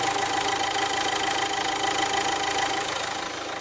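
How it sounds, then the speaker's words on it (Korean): A low-mileage diesel SUV engine idles steadily and close, with a constant rumble, a faint knocking clatter and a thin whine running throughout, with no talking. "엔진 소음 먼저 들려드리면은"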